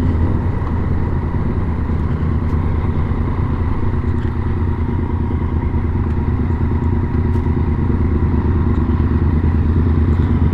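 A Yamaha MT-09 900cc motorcycle on the road gives a loud, steady engine drone with wind rush. It holds close and continuous throughout, with no talking.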